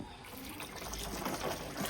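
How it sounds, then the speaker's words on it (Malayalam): Soapy water poured into a potted orchid, a soft steady trickle and splash of liquid running for a couple of seconds, close and fairly quiet. "ഇത് ഞാൻ ഇതിൻ്റെ അകത്തോട്ട് ഒഴിക്കണേ"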